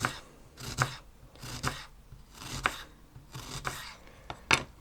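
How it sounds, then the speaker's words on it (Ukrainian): A knife slices through a red onion into half rings in five or six slow, even strokes, each a crisp scraping cut against a board, close up. "І цибулька, така салатна червона. Нарізаю напівкільцями."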